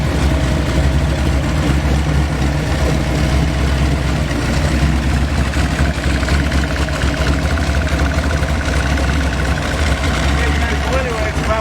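A high-horsepower car engine idles nearby, producing a loud, continuous low rumble with a steady throb that persists evenly for the whole stretch.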